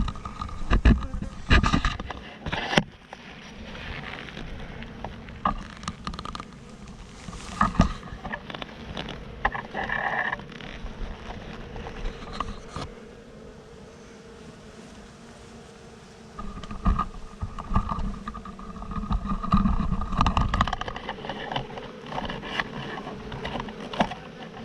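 Honey bees hum around a hive during an inspection as a super is added, a steady droning buzz broken by handling knocks, rustling and wind bumps, fairly close throughout with stretches of quieter buzzing.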